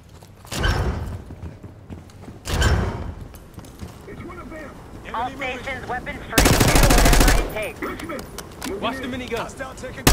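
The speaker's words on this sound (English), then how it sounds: "Watch the minigun." Sustained, loud automatic fire from a minigun in the Call of Duty video game, with bursts of shooting between stretches of game dialogue and voices. The longest and loudest burst comes near the end.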